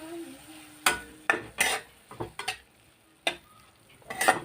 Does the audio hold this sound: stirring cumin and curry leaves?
yes